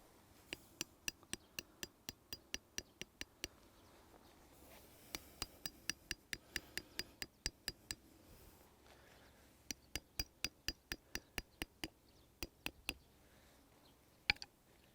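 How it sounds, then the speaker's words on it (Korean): A steel hammer drives metal pins into the ground outdoors during landscaping practice, making sharp metallic strikes in quick rhythmic bursts of several blows, separated by short pauses, faint against a quiet background. "핀을 박을 때는 반드시 쇠망치를 이용해 주시고"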